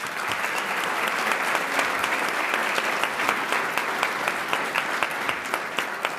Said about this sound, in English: I think we should show it by giving our sponsors and underwriters a nice round of applause.